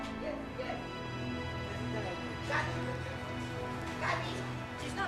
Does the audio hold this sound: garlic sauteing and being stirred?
no